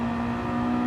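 Mazda race car engine in the Mazda Challenge at Lago Maggiore, the driver feathering the throttle out of a corner; a steady, loud mechanical drone with a fixed pitch, close and continuous, with no voices.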